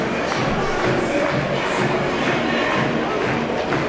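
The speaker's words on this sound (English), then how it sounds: "A lot of excited fans here." A large, excited crowd of mostly North Carolina fans in the stands at a Little League baseball game, a steady dense roar of chatter and shuffling with faint cheering, loud and continuous.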